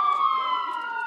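Ambulance siren at a mass-casualty medical training exercise, a sustained loud wailing tone that slowly falls in pitch, heard close and steady for about a second.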